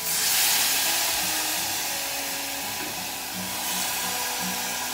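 Warishita sauce poured into a hot, lightly oiled pan, giving a loud, steady broadband sizzle that eases slightly and then swells again, with faint clinks underneath.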